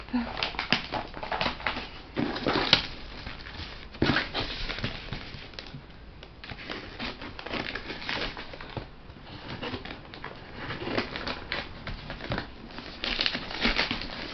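Paper packaging crinkles and rustles up close as it is unwrapped, in uneven bursts of crumpling that rise and fall over the whole stretch.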